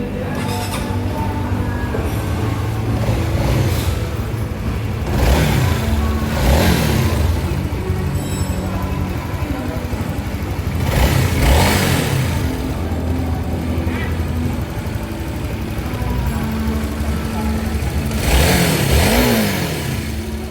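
A Honda CB150 motorcycle just back from a major service revs repeatedly, its engine climbing and falling in several loud bursts between steadier idling, close to the listener.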